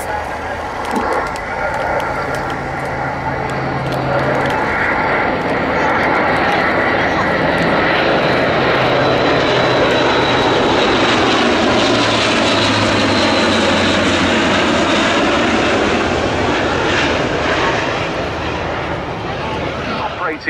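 An Airbus A400M Atlas C1 military transport sweeps past at an RAF Cosford air show, its loud propeller-turbine roar building and shifting in pitch as it passes for about twenty seconds, with a commentator's voice over it.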